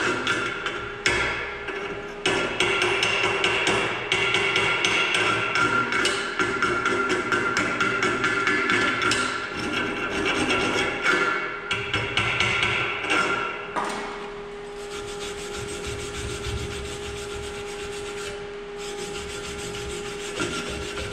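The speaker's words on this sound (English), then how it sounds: "If you perform your weld correctly, just a little bit of scraping will be able to remove that slack." Slag being scraped and chipped off a 7018 vertical fillet weld, a steady close rasping and rubbing with scattered sharp ticks and knocks running throughout.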